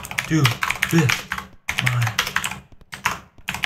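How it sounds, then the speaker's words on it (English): Rapid clattering keystrokes on a computer keyboard come in close bursts, loud and clicky, with a voice talking intermittently between them. "I hear your keyboard more than your voice."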